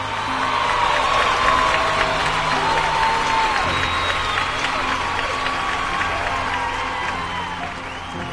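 Loud, sustained applause and cheering from a crowd welcoming a guest onto the stage at an organic agriculture product event in Kolkata, with a dense, steady roar of clapping throughout.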